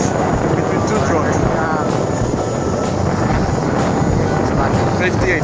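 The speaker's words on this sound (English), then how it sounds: "we're gonna do a quick race between two drones" Two drones race outdoors on a Valencia beach trip, heard as a loud, continuous buzzing whine with wind noise, close to the microphone, while people talk over it.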